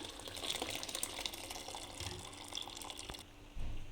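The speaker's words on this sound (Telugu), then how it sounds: "ఇప్పుడు ఈ గంజిని మొత్తం వార్చుకోవాలి" Starchy cooking water pours steadily off boiled rice for chicken dum biryani, a continuous near splashing stream that briefly thins before a heavier gush at the end.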